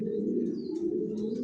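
Long-distance racing pigeons in a loft coo in low, continuous, throaty rolls, close and fairly loud, with a few faint chirps above.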